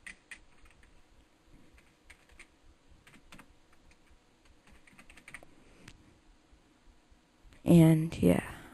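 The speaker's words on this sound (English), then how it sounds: "I'll type it in." Computer keyboard typing at close range, a steady run of light, irregular key clicks, followed at the end by a louder burst of a man's speech.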